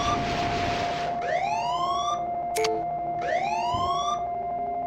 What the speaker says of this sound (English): And yay, for sirens!